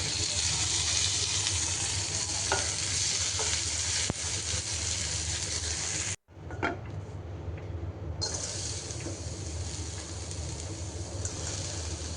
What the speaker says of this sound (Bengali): এখন আমি কতগুলো পেঁয়াজ ভেজে নিব ভর্তা দেওয়ার জন্য পেঁয়াজ রসুন সব কিছু এখন ভেজে রেডি করে নিব